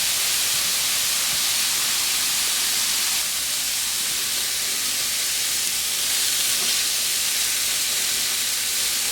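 Pork breakfast sausage patties sizzle steadily in a pan, a dense continuous hiss of frying fat that stays loud and even throughout, with no talking.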